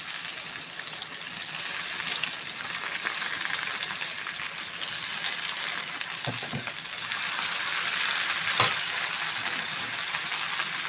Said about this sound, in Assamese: এয়া পিঁয়াজ ৰঙা হৈ গ'ল আৰু এতিয়া ঢেকীয়াখিনি দি দিওঁ।